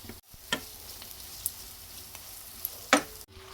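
Prawns fry in a pan with a steady, quiet sizzle, broken by a few sharp spatula clicks and scrapes near the start and end.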